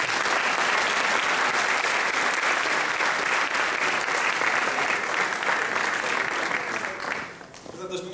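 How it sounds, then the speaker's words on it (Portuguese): Sustained audience applause at a conference in Portugal, dense and steady for about seven seconds before thinning into scattered final claps. "muito obrigado pela vossa atenção, uma salva de palmas"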